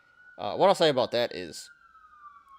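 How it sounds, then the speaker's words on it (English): A police siren wails outside, a faint steady tone running beneath someone talking close to the microphone and lingering alone after he stops. "And sorry about the sirens. Here comes another one."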